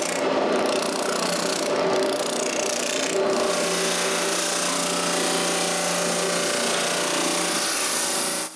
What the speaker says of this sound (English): It's time to use the drum sander.